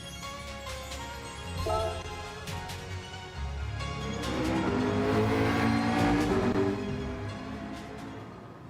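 Race car driving on an empty track in the video game Gran Turismo, a continuous engine drone that rises in pitch as it accelerates through the gears, with faint tire noise, no voices.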